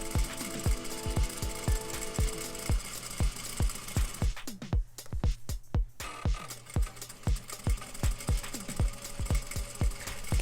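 A sewing machine runs a quarter-inch seam with a rapid, even series of mechanical stitching thumps, loud and close, briefly thinning midway before resuming its steady rhythm.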